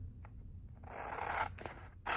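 Scissors snip through double tack mounting film, a soft close slicing rasp followed by a couple of quick short cuts, quiet and with no voices.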